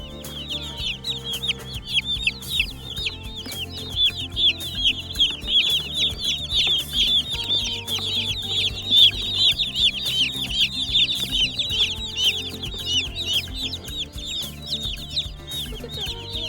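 Baby chicks on a farm cheep and peep continuously in a dense, high-pitched chorus that runs throughout, fairly close and steady, with a faint low background hum beneath and no talking.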